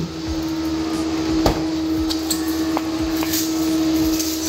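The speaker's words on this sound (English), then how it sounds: "Sorry about the noise in the background, but my poor long-suffering wife is mowing the garden." A lawn mower cuts a garden somewhere in the background, a steady, droning hum that persists evenly throughout with a few faint clicks on top.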